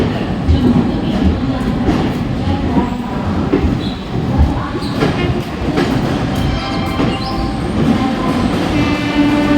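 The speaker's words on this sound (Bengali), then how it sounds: "আমাদের ট্রেন প্রয়াগরাজ স্টেশনে ঢুকেছে এই হচ্ছে প্রয়াগরাজ স্টেশন" A train pulls into Prayagraj railway station during the Maha Kumbh Mela, with a loud continuous rumble, rhythmic wheel clatter and occasional squeals heard from on board.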